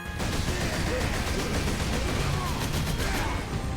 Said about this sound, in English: it makes your life a bit easier by changing the gun sounds as magazine gets empty